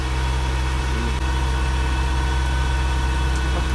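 A Mercedes W201 190E with an M102 engine and E-Jetronic injection idles at raised RPM, a steady loud low hum with a faint whine above it, close and without voices.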